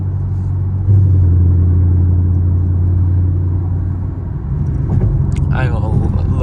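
A Chevrolet Camaro SS drives at night with a deep, loud engine and exhaust rumble heard from the cabin, swelling with throttle then easing, while someone talks over it near the end.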